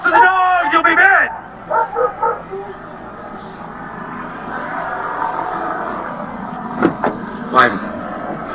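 A sheriff's K9 dog barks in a short yelping burst during a nighttime suspect search, followed by a few softer barks and whines, with a voice shouting and a vehicle idling in the background.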